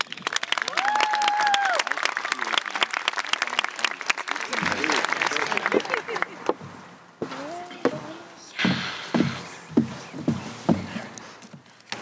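Graduation ceremony audience at a 2024 high school applauds in dense clapping that swells and fades, mixed with some cheering and overlapping speech.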